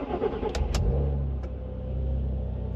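An Audi TT Mk1 idles with a low, steady exhaust rumble, swelling slightly as it revs; a couple of faint clicks sound early on.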